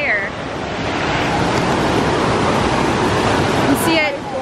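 High water rushing over Buttermilk Falls makes a constant broadband roar that stays loud and steady throughout.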